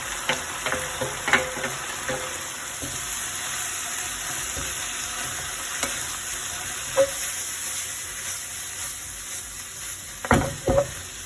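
Squid frying in sambal in a pan gives a steady, close sizzle with scattered stirring clicks and a few sharper scrapes near the end, no voices.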